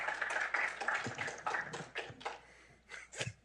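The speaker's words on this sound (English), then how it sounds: "You can applaud, it's okay." Audience at a Heritage Foundation event on nuclear regulatory reform giving scattered, fairly faint applause, individual claps standing out as the clapping thins and stops.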